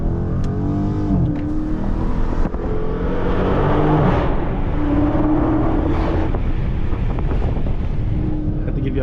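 A Last Call Dodge Charger Scat Pack widebody revs hard inside a tunnel, its loud engine roar echoing off the walls and climbing in pitch, with wind buffeting the microphone.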